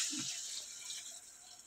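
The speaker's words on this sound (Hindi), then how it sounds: "अब हम ऐड कर देंगे पानी" Water pours into a cooking pot of softened tomatoes and coriander for keema, a steady splashing rush with a brief deeper gurgle at the start, close and continuous with no talk over it.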